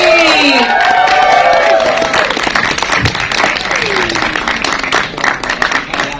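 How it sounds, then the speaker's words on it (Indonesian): An audience at a press conference for the film Heartbreak Motel gives loud, lively applause and some cheering for actress Laura Basuki. Music and voices sound at the start, then the clapping carries on and thins slightly toward the end. "langsung saja kita beri tepuk tangan yang paling meriah untuk Laura Basuki"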